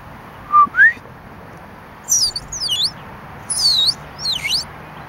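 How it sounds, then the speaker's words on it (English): Several sharp bird chirps outdoors, a quick pair of short rising calls followed by longer swooping whistled tweets in bursts, fairly close and clear over a quiet background. "It's a bird."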